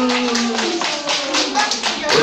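Children clap together at a daycare puppet show, a steady close burst of many small hands lasting a couple of seconds, with tonal voices or music lines running underneath.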